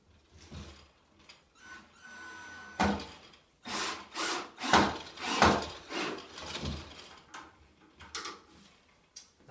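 Wood screw with a washer is driven into a board, giving a close series of grinding, creaking bursts of varying length with short pauses between them.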